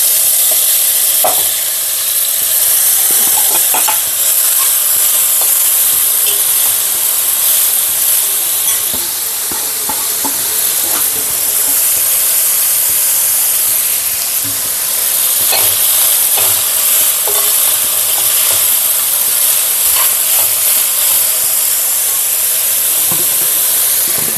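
Pumpkin leaves for a Kerala thoran fry in a hot pan, with a loud, continuous sizzle and hiss. Scraping, clicking stirring strokes recur throughout the long stretch, and no talking is heard.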